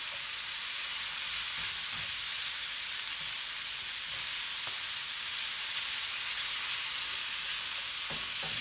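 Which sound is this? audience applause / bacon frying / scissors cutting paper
bacon frying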